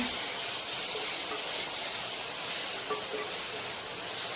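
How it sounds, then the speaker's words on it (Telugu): Ground coriander paste frying with onions in a hot pan for a rice lunch-box dish gives a steady, even sizzling hiss that stays constant from start to finish. "కొత్తిమీర పేస్ట్ తీసుకున్న తర్వాత టూ మినిట్స్ ఫ్రై చేయండి"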